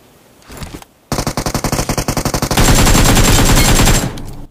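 Automatic gunfire from a mobile shooter game bursts out loud and close, with a rapid even rattle of shots that then merges into a sustained dense roar of firing before cutting off.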